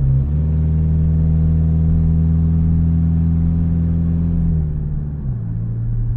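A Toyota Camry with a broken-off exhaust accelerates, its loud, deep engine drone holding steady and rising before dropping in pitch as it shifts near the end, close and continuous with no talking.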